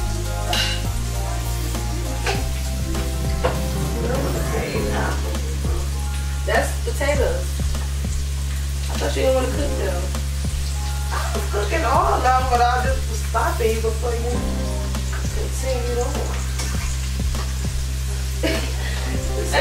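Potatoes frying in a pan while breakfast is cooked for dinner: a steady, dense sizzle that runs throughout, with a few clinks and stirring noises and people talking over it.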